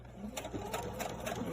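A sewing machine back stitching elastic onto a fabric face mask runs with a steady, fast mechanical chatter of needle strokes, close and continuous for the whole moment.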